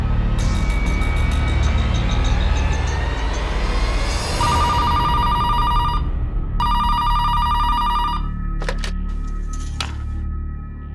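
A telephone bell rings in loud repeated bursts with a steady electronic tone, pausing between rings, over a constant low rumble of background noise.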